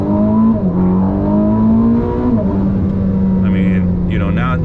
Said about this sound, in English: the combustion engine kicks in when you push it